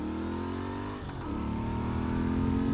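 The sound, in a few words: Moto Guzzi V7II Stornello motorcycle engine and aero exhaust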